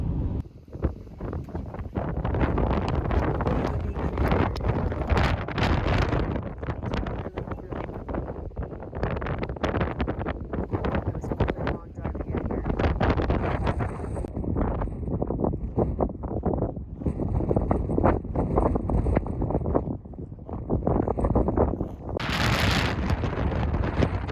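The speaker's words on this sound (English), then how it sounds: "It is so windy." Strong wind at Ubehebe Crater in Death Valley batters the microphone with loud, continuous roaring gusts for over twenty seconds, briefly easing near the end.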